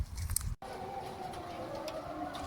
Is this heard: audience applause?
no